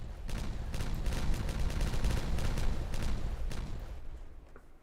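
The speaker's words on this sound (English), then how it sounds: "Let's detonate this." Explosives detonate in a video game, a dense rumbling barrage of blasts that rolls on for several seconds before fading out.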